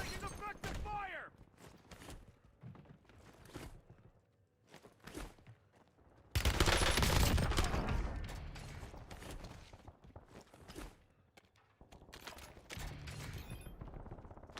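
Bursts of gunfire in a tactical shooter video game, with a loud sustained volley midway amid scattered shots and footsteps, while players talk over the action.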